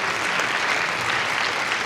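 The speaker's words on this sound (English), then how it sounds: "Give him a big thank you and round of applause." Audience applause fills a high school mid-year band concert, a continuous, even wash of many hands clapping at moderate loudness, with no voices over it.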